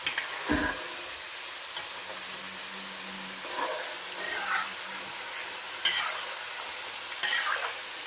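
Khand pare frying in hot oil on a lowered flame, a quiet continuous sizzle with occasional soft clinks and stirring touches, close but faint, no voices.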